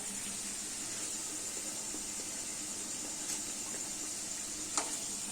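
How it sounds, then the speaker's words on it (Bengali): Thankuni (pennywort) leaf pakoras deep-frying in hot oil give a steady, even sizzling hiss that runs throughout, with one brief crackle near the end and no voices. "একটু লাল করে ভেজে নেবো বন্ধুরা"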